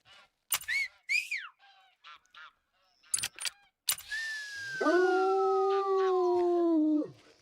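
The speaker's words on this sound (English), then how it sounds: "There's a howl just for you, Steve." Snoop the dog lets out a long, sustained howl that rises, holds and then drops off, preceded by short yips and sharp noises, close and fairly loud.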